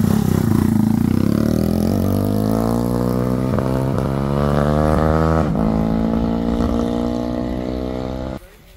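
A Honda CG motorcycle engine runs loudly and steadily, its pitch climbing as it revs up, then settling before cutting off abruptly near the end.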